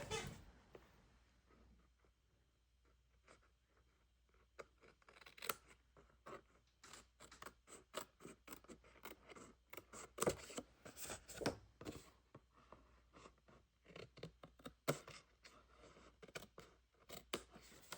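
Scissors snip off excess paper on a paper pumpkin craft project, a run of quiet, close, irregular cuts and paper rustles over a hushed room.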